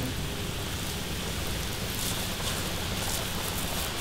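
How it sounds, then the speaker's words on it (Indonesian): Chicken-shaped dough fries in hot oil, a dense constant sizzle and crackle heard up close and fairly loud, steady throughout with no voices over it. "Minyaknya udah dipanasin dan kita goreng."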